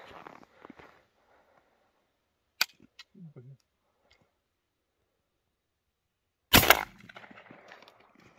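A 12-gauge IZh-43 or 20-gauge MP-27 shotgun fires from the left barrel on an outdoor range: one loud, close, sharp blast follows an earlier faint snap, with brief voices around it.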